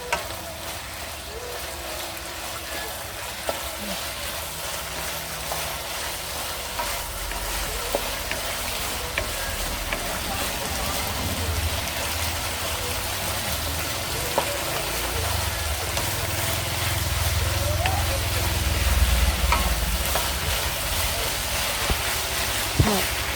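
Vegetarian mixed vegetables stir-fried with basil and holy basil in a pan give a continuous close sizzle, with faint scrapes of stirring and a low rumble building slightly toward the end.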